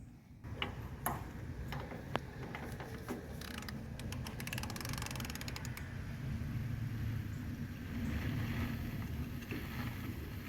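Lug nuts being tightened by hand on a car wheel outdoors, a scatter of sharp metallic clicks and ratcheting ticks, denser in the middle, over steady wind and background rumble.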